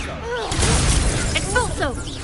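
A fiery Confringo spell blast strikes in Hogwarts Legacy, a short crackling burst amid swirling magical whooshes and shimmering effects, loud and close over a busy battle soundscape with voiced spell shouts.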